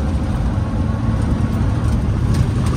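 A Maruti Gypsy 4x4 with a carburettor engine and 31-inch tyres runs with a steady, loud, low rumble close by, without speech.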